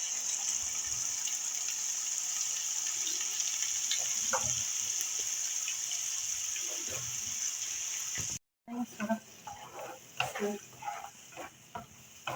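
Masala and garam masala sizzle and fry in a pan for egg keema, a soft steady crackle with occasional stirring clinks, then after a brief cut louder stirring and scraping with more irregular bursts.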